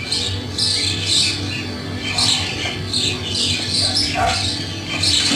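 A flock of birds squawks loudly and repeatedly in harsh, overlapping bursts that come every second or so over a steady background hum.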